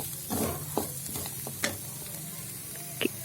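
Cut garlic is sautéed in a pan for capsicum masala. A soft hiss runs throughout, with a handful of sharp spatula taps and scrapes spaced unevenly, close and fairly quiet.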